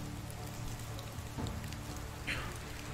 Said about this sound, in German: Regnet die ganze Zeit.